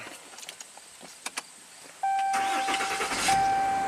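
A 2021 Ram tow truck engine cranks and catches after some faint clicks and rattles, then settles into a loud, steady idle with a rising whine close by.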